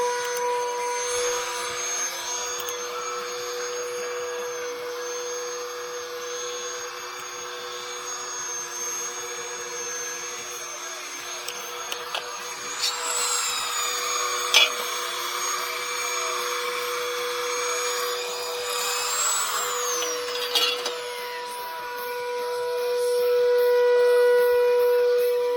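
A Makita 7401 chain mortiser cuts a pocket into cold timber for a timber frame deck, a sustained whining motor drone with a rising, strained roar as the chain bites into the wood, ending in a swelling surge.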